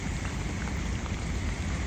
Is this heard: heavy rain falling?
yes